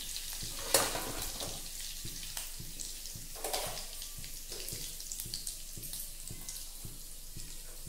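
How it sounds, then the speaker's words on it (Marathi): Mustard seeds spluttering in hot oil, followed by cumin and curry leaves, heard as a continuous close sizzle and fizz with scattered sharp pops and faint stirring clatter, no voices. "मी मोहरी टाकते आणि तिला तडतडून देते"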